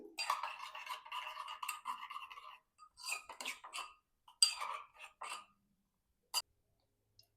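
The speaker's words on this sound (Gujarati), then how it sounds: "તેને આપણે મિક્સ કરી લઈશું." Salt and water stirred into a slurry in a small bowl, a quick scraping, clinking swirl of a spoon in short bursts, then a few isolated taps, close and quiet.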